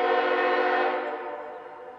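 A GE Evolution series freight locomotive sounds a loud, steady multi-tone horn up close as it passes, the blast fading slightly toward the end.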